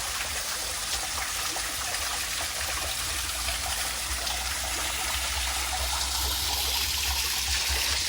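Steady rushing and splashing of a small roadside waterfall, a continuous broadband wash close by with no voices.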